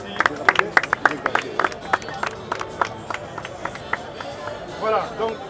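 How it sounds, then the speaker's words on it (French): An audience at a farewell ceremony claps in scattered, uneven bursts, close and fairly loud, with voices and crowd murmur mixed in and a sung or called phrase near the end. "on applaudit très très fort"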